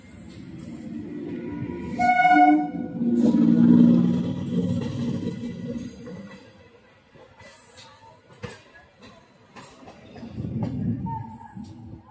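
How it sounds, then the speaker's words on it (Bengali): A local train rolls into platform 9 at Sealdah station with a heavy, steady rumble, and a loud horn sounds briefly near the start before the wheel noise fades to quieter clatter. "আমাদের ট্রেন শিয়ালদা 9 নম্বর প্ল্যাটফর্মে প্রবেশ করছে"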